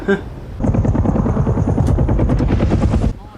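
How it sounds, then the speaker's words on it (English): Loud, rapid rhythmic thudding of a military helicopter's rotor blades, close and steady for about two and a half seconds before cutting off. "What an alarm to wake up to, just a freaking military chopper."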